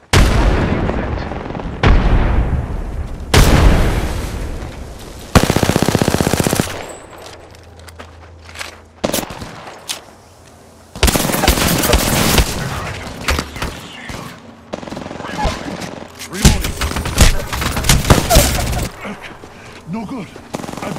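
Apex Legends Arena Mode gameplay on PS5: loud bursts of rapid automatic gunfire and booming frag grenade explosions trade off across the span, with quieter gaps between volleys and a player talking at times.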